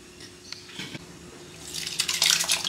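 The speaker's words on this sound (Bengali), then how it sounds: "জলটা ফুটে গেছে" Water boils in a pot for plain rice, with quiet bubbling and dripping early on that grows into a louder, busier gurgle in the last second.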